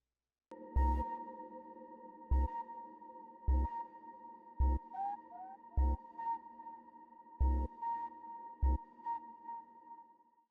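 Ambient synth patch run through a Juno 6 style chorus and tape echo delay: sustained droning tones with repeated soft struck notes and gliding echoes at a steady, spaced rhythm, played alone without talk.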